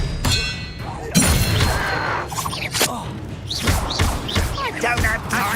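Expelliarmus spell cast in Hogwarts Legacy during a fight at a goblin camp: a sharp magical thump and crackling burst, followed by further whooshing spell effects and clashing impacts, with game voices between.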